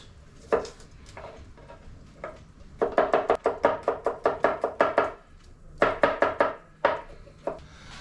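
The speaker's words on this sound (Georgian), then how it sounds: "ვჭრით ხახვს. ვჭრით ნიორს." A knife chops onion and garlic on a wooden board, with crisp close knocks in quick rhythmic bursts separated by short pauses.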